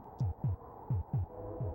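Rapid heartbeat from the SNES video game Populous, a quick run of low, thumping double beats repeating evenly, clean and alone with a faint hum beneath.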